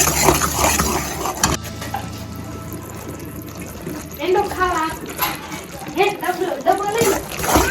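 Wheat flour being stirred into hot jaggery syrup for sukhdi gives wet scraping, sloshing and faint sizzling in a pan, with a person talking over much of it.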